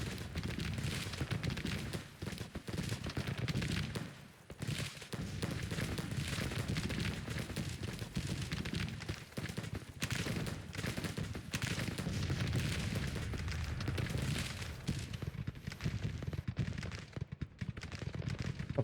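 Massed musket volleys from large formations of Civil War infantry in Grand Tactician, a dense, continuous crackle of distant fire rolling on without a break.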